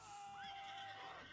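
A horse whinnies in the strategy game Age of Mythology, a single loud, wavering neigh lasting about a second over dense game background sound.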